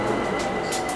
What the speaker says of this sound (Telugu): Metro train.